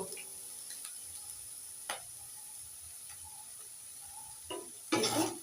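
A spoon stirs food in a pan at home, producing a few scattered scrapes and clinks over a faint sizzle, with one louder clatter near the end.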